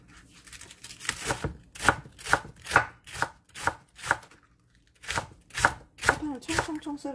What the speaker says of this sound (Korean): 대파를 썰어 볼게요.